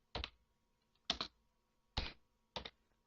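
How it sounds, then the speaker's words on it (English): Four separate, fairly loud key strikes on a computer keyboard while a command is entered at a command line, spaced about half a second to a second apart in a quiet room. "just type it netstat."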